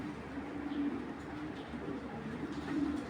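A male red checker racing pigeon of Belgian bloodline gives low, soft, throaty coos up close, repeated a few times against a faint background hum.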